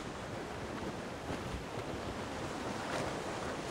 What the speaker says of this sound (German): Der Wind gefällt mir nicht, Sir.